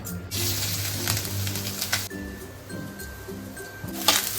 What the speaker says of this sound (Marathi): आता आपण एका टोपामध्ये गूळ आणि खोबरं परतून घेऊया थोडंसं तुपामध्ये